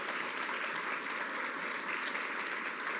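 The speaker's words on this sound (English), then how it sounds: "Stand up and take a round of applause, because this is a very big deal." An audience at a Long Island budget announcement by the New York governor applauds loudly and steadily, a dense, even wash of clapping with no break.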